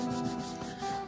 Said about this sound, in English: now I'm just going over it with some polishing wax